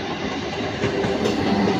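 A local train on the Howrah chord line passes near Saktigarh, a loud, close rumble of rolling wagons with a faint rhythmic clatter from the wheels.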